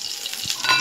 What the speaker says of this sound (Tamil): மீன் குழம்பு தாளிப்போம்.